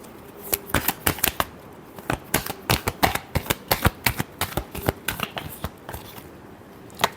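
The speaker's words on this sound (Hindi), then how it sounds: "last shuffle" Tarot cards are shuffled by hand in a long run of sharp, close slaps and snaps with uneven rhythm, dozens of distinct hits over several seconds, alone without speech.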